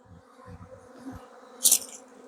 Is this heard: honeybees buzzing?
yes